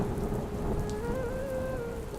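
Steady rain pours down in a dense, continuous hiss, with a faint tonal hum drifting underneath and no voices.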